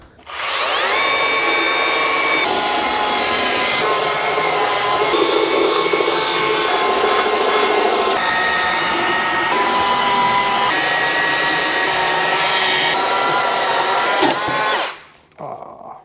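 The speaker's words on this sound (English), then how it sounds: "Well, I guess it's sanded enough." A belt sander runs on wood for a long continuous stretch, a loud whining roar with steady grinding hiss that winds down near the end.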